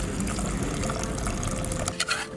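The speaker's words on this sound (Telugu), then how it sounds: "ఇప్పుడు ఎక్సెస్ వాటర్ని వేరు చేసి పక్కన పెట్టుకోవాలి." Excess cooking water is poured off cooked dal from a pressure cooker, a steady splashing, gurgling stream of liquid close by that tapers off near the end, with no talk.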